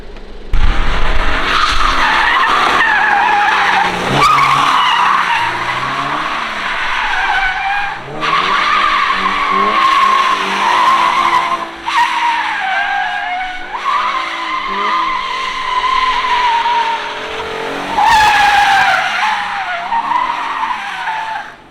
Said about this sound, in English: It feels so weird drifting like a car that's so like quiet and new.